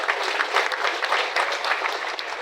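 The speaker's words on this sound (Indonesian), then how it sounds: "Yuk kita kasih tepuk tangan untuk yang duduk di depan ini saudara." Congregation clapping during a Sunday sermon at a church in Kuningan, a dense, steady burst of many hands filling the whole stretch at moderate loudness with no talk over it.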